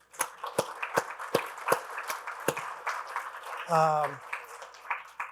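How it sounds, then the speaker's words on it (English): Audience applause for veterans at a talk on building a low-code center of excellence: sparse, fairly faint individual claps in an uneven rhythm, with a brief tonal sound partway through. "Round of applause, please."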